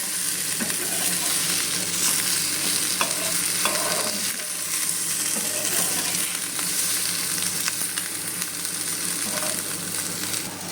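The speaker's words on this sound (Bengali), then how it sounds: "এটা বেশ খানিক্ষণ আমি কষিয়ে নিয়ে ভেজে নিয়েছি" Base for a Katla fish curry with vegetables frying and being stirred in a pan, a loud dense sizzle running throughout with light scraping stirs on top, close.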